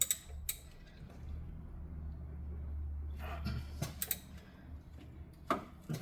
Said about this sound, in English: So now we're gonna tighten up the bolt for the tensioner.